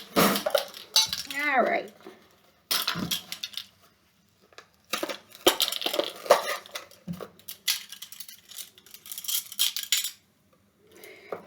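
Metal measuring spoons clink and rattle in a few short bursts in a homestead kitchen as they are fetched for baking soda, with a person talking over and between the clatter.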